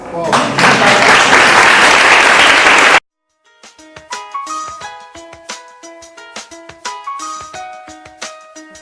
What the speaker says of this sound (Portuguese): Então é isso. Palmas.